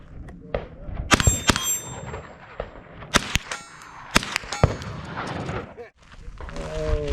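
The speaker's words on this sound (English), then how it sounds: "As soon as you hear the ping on one that you hit, go to the next target" Gunshots fire at a church safety team range drill, each sharp crack followed by bright metallic pings off steel targets, a scattered irregular string of close, loud impacts with a voice speaking between shots.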